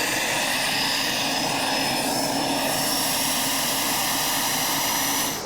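Loud, continuous engine roar with a steady rotor-like drone from a Russian military transport helicopter, close and unbroken throughout.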